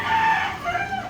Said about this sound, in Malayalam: ബാലി കോഴി കൂവിക്കുന്നു.